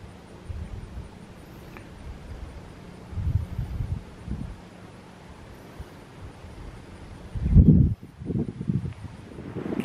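Wind gusting across the top of an ancient earth mound about 72 feet high, with soft low rumbling buffets against the microphone that swell into a stronger gust near the end, no talking.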